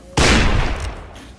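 A loud, close burst of video-game gunfire erupts after a brief quiet moment, a sharp blast that rumbles and decays over about a second.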